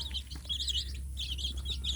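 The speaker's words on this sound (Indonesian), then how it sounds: "anak ayam kampung saya ini" Small free-range village chicks in a box with a mother hen peep and chirp rapidly in high-pitched bursts over a low steady hum, fairly close.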